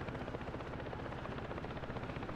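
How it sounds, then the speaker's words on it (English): A helicopter in the video game Ghost Recon Breakpoint, its rotor thumping in a fast steady pulse under a loud dense engine roar, close and continuous with no talking. "Get in my chopper."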